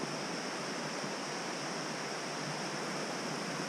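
A Dartmoor brook flowing over rocks in winter, a steady, even wash of rushing water without a break, fairly faint and with no other sounds.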